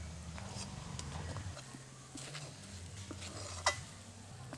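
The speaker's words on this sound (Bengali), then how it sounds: "এটাকে ভালো করে নেড়েচেড়ে একদম শুকনো শুকনো করে নিয়েছি" A milk, jaggery and ghee mixture being stirred in a wok, with soft scraping and low sizzling as the spoon works steadily, plus one sharp clink near the end.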